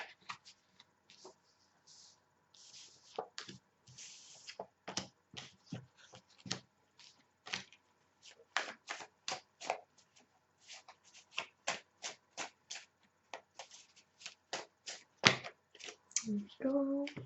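Tarot cards are handled in bursts of crisp slaps and riffling flicks, close and fairly quiet, with brief pauses between groups and a short murmur of voice near the end.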